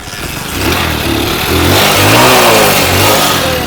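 A used motorcycle's engine revs up and down close by, its rough growl rising and falling in a few surges.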